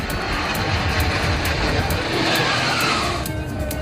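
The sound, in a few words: Surya Kiran aerobatic jets roaring overhead trailing tricolour smoke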